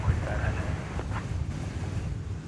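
Steady wind roars and buffets the microphone outdoors at an airport, a continuous low rumbling gust noise filling the whole stretch with no clear breaks.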